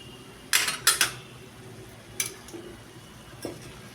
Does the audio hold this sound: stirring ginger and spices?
yes